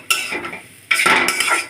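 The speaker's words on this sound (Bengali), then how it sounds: "চাট মশলার সবজির সাথে মিশিয়ে নেড়ে চেড়ে স্টাফিংটা রেডি করে নিব।" A spoon scrapes and stirs mashed potato and vegetable stuffing seasoned with chaat masala in a pan, two loud, close bursts of gritty scraping with a brief gap between, no voices.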